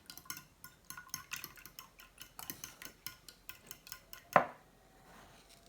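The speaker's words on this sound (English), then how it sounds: "Then you just mix your eggs together and your milk." Four eggs and milk are whisked in a bowl, making a quick, even series of light tapping clicks against the bowl's sides, ending with one louder knock.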